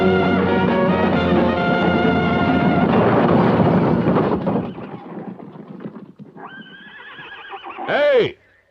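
A horse whinnies loudly near the end, a high wavering neigh, after several seconds of dense, rumbling noise.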